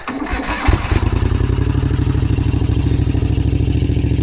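A 1981 Moto Guzzi Le Mans Mark 2 motorcycle engine, dead cold with choke on, cranks briefly and then fires, settling into a loud, steady, throbbing idle close by.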